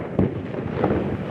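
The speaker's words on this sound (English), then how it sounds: "Explosions across Lebanon today as Israel carries out extensive strikes against Hezbollah" Explosions from Israeli strikes on Hezbollah in Lebanon sound as two dull, distant booms about half a second apart over a low rumbling background.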